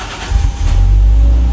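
A Toyota Supra on its old stock exhaust cranks and fires, with a low, steady rumble building after a brief catch and settling into a continuous idle.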